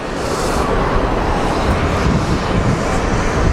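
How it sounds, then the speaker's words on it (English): A noisy jet engine air start at Geneva Airport gives a broad, steady roar of rushing noise, loud and continuous over a few seconds. "Noisy air start"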